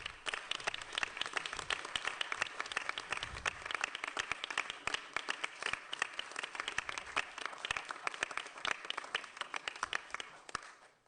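Audience applause at a county commission meeting, a continuous patter of many hands clapping for about eleven seconds, fairly faint and even throughout.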